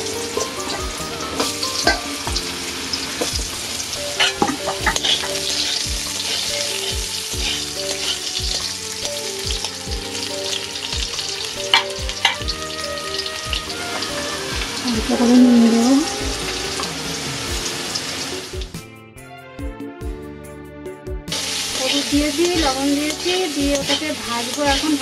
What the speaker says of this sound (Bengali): কালো জিরা দিয়েছি কড়ার মধ্যে, কালো জিরা সামান্য দিয়েছি, ওটাকে এখন আলুটাকে ভাজবো।